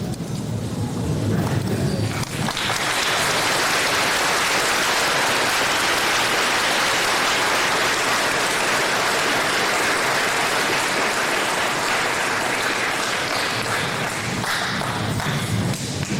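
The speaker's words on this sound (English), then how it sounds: "join me for a round of applause for our teachers and staff" A large graduation audience applauds teachers and staff with dense, sustained clapping like heavy rain, a continuous wash from a crowd at a distance, steady throughout.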